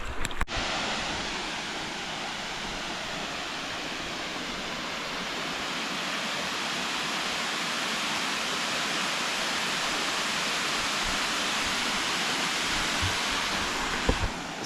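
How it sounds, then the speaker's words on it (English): A waterfall roars from a distance at a bush day visitor area in Australia, a broad, steady wash of falling water that stays even and unbroken the whole time, with no voices. "So that's the waterfalls we've got here from a distance."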